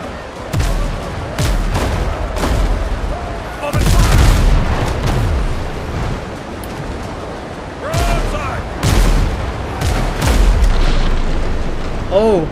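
Ship cannons firing in the pirate game Windrose, heavy booms landing in uneven volleys over a constant rumbling battle din, loud and close, with speech woven between the blasts.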